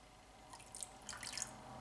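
Cold rose water drips into a homemade balm mixture, making a few soft, close drips and splashy taps over a faint background hiss, with no speech.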